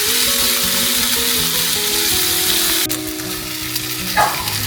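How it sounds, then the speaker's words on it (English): Tomatoes for a squid and bean sprout stir-fry fry loudly in a hot pan, a dense close sizzle with a brief clatter near the end. "Let the tomato cook for a little while."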